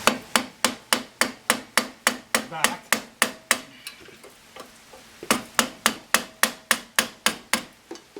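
A hammer taps metal retaining tabs back over a bolt on a snow blower, a loud steady run of evenly spaced strikes that pauses for a few seconds, then resumes at the same brisk rhythm.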